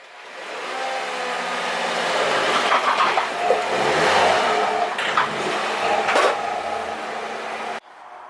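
Engine of a 2017 Volkswagen Jetta with a 1.4-litre turbo as the car drives up onto ramps: a close, steady hum that swells as it climbs, holds a strained note, then cuts off abruptly near the end.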